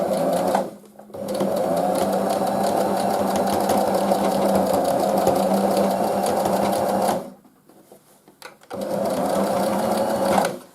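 A sewing machine runs in long steady stretches, a fast rhythmic mechanical whir that stops briefly, pauses, then starts up again near the end.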